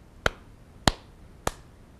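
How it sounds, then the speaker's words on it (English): Children clap their hands together three times in unison on a preschool music show. The three crisp, sharp claps are evenly spaced about half a second apart and stand out against near silence. "Let's clap one more time. Three times together."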